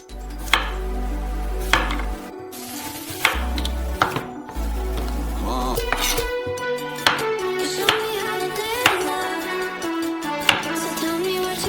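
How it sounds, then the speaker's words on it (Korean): A knife chops a halved carrot into long strips on a cutting board, sharp, evenly spaced knocks over a low droning background hum with music-like tones. "당근을 반으로 자르고"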